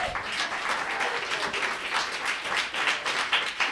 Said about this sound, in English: Round of applause for Ruth.